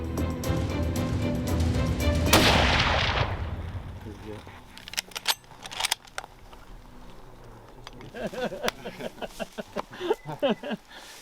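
Rifle shot fired at a buffalo bull while hunting in the Eastern Cape: one loud, sharp crack builds into a roaring blast that fades, followed by hushed voices and scattered sharp clicks.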